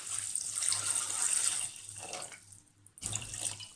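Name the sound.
water being poured in while cooking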